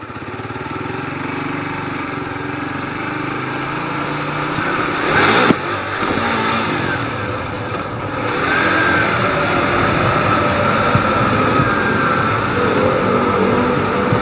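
Suzuki Bandit 150 motorcycle engine while riding, a steady droning engine note with wind rush, briefly surging around the middle and then holding level and fairly loud to the end.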